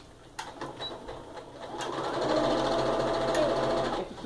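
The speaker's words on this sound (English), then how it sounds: "take this top piece and sew it on." Sewing machine stitching a quilt top piece, a close, steady mechanical whir that starts after a few clicks and runs continuously before stopping.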